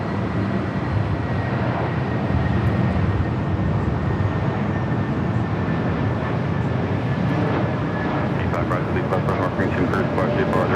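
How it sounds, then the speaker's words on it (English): Delta Airlines Airbus A321neo from Minneapolis at LAX, a steady broadband roar of jet engines that holds loud and constant throughout, with faint higher tones near the end. "Delta Airlines Flight 2327 coming from Minneapolis and A321 at NEO."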